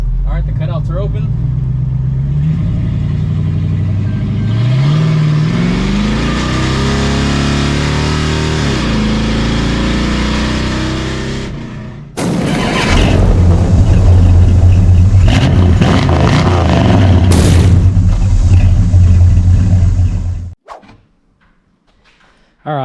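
A 1955 Plymouth accelerates hard with its electric exhaust cutouts open, the engine roaring and rising in pitch through gears, then a louder, harsher blast of open exhaust that cuts off abruptly near the end.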